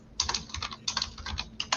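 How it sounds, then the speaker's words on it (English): Quick, light clatter of a computer keyboard during a home inspection discussion, irregular bursts of keystrokes, close and fairly quiet, with no talking. "What are you typing?"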